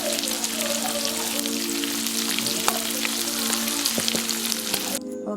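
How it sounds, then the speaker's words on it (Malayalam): Chicken frying for kabsa: continuous close sizzling and crackling of hot oil with scattered pops and faint utensil clinks, steady throughout before cutting off abruptly at the end. "ചിക്കൻ ഫ്രൈ റെഡി ആയിക്കൊണ്ടിരിക്കുകയാണ്."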